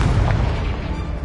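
A fiery exploding spell in Hogwarts Legacy bursts with a loud, deep boom that rumbles and decays across a second or so.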